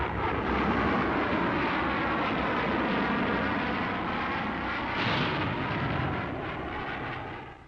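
Solid propellant rocket engine firing at launch, a loud, sustained broadband roar that holds steady for several seconds with a brief surge midway before easing off at the end.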